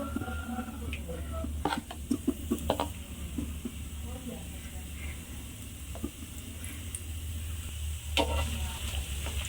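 Gram flour batter frying in hot oil for motichoor laddu, a steady close sizzle and hiss with occasional clinks of a utensil against the pan, and a voice speaking briefly over it.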